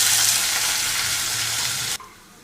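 Onion and green chilli pieces sizzle loudly in hot tempering oil with lentils, cumin and mustard seeds, a steady bright frying hiss with some stirring that cuts off sharply near the end, leaving a faint quieter sizzle.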